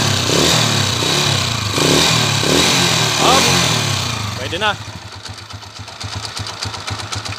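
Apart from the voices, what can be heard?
motorcycle engine revving and idling, noisy timing gear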